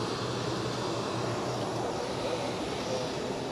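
An Airbus A320 bound for Munich rolls for takeoff on a crosswind runway at Zurich Airport, a steady, even engine roar heard from a distance that holds without a break.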